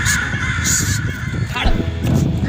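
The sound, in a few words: person imitating crow cawing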